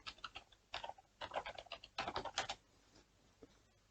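Quick bursts of keystrokes on a computer keyboard, close and fairly soft, with a short pause in the middle and a lone final tap at the end.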